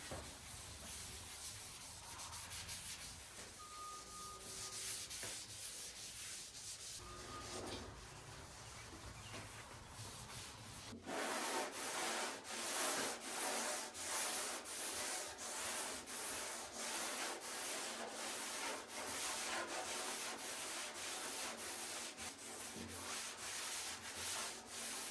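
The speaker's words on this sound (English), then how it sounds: "We got her all sanded down." A truck fender is sanded down for primer during a shop truck restoration, with steady close rasping that turns louder and more rhythmic, stroke after stroke, midway through.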